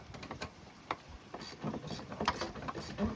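A ratchet wrench loosens a tight O2 sensor on a car, with quick, quiet clicking strokes close by over steady background noise.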